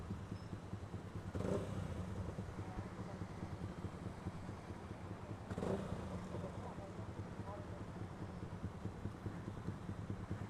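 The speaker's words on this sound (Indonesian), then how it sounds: "Ada knalpot racing guys." Steady motorcycle engine rumble through a racing exhaust, with two brief, louder revs, heard from nearby against a wash of background noise.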